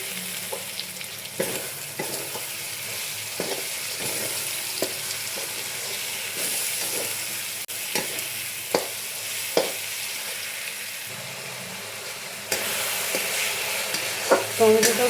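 Tomatoes fry with already browned garlic and onion in a pan for mutton kosha, giving a loud continuous sizzle, repeatedly broken by the scrape and clatter of a spoon stirring, with no talking.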